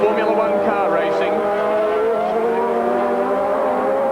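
Superbikes from a 1987 Swann Series race at Lakeside roar past at racing speed, their high-revving engines whining and shifting pitch in a continuous, loud blur.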